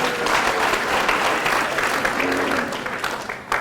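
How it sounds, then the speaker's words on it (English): An audience claps in sustained, dense applause that fills the room, holding steady before tapering off near the end. "let's give Elizabeth a round of applause as well"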